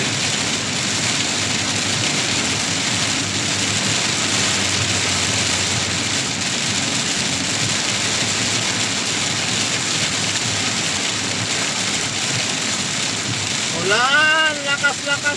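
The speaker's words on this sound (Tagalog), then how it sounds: "Lakas-lakas ang ulan!" Heavy rain drums steadily on a moving vehicle as it drives along a road with poor visibility, a dense continuous roar throughout; near the end a voice briefly speaks over it.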